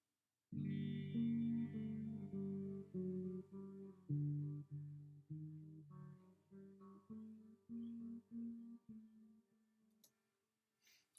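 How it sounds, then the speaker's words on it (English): Finger-picked acoustic guitar notes in an Arabic style ring out one by one in a steady, folk-like melody, close and clear, fading to near silence near the end. "was basically finger-picked guitar in a sort of ethnic style."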